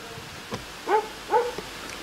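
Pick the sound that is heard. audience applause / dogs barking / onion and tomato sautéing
dogs barking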